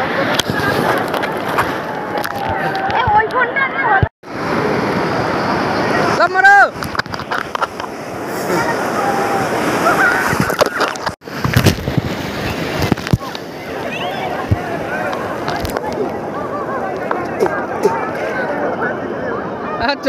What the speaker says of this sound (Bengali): জলের মধ্যে এই দেখো জল আসছে